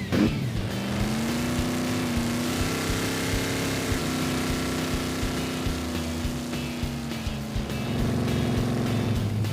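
A car engine drones steadily close by, pitch holding fairly even with slight rises and dips as the car drives on and swings around in a U-turn, with no talking over it.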